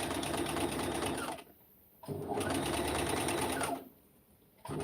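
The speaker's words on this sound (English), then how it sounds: "And now I'm sewing up all the way to the top." Sewing machine stitching heavy fabric upward, running in two long steady bursts with a brief pause between, loud and close, no talking.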